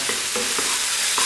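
Curry spice powders, including coriander, fry in a pan with chicken and eggplant while being stirred, giving a steady close sizzle broken by rhythmic scraping strokes across the short stretch.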